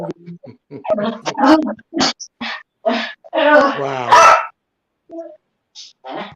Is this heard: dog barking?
yes